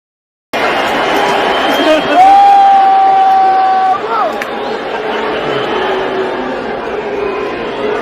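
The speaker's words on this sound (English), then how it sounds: "they're just booing the shit out of Elon" A comedy-show audience at a comedian's performance loudly booing Elon Musk, a dense sustained roar of many voices with a whistle cutting through near the start.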